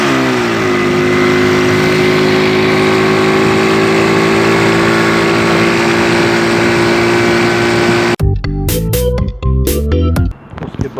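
A motorcycle with worn clutch plates revs loudly and steadily, its engine drone climbing slightly in pitch before the sound cuts abruptly into a series of sharp, choppy bursts and clatters close to the microphone.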